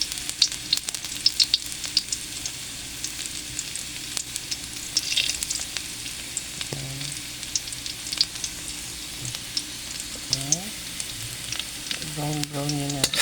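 Chopped garlic sizzles in hot cooking oil for ginisang ampalaya, a steady bright crackle with occasional clinks and scrapes of stirring.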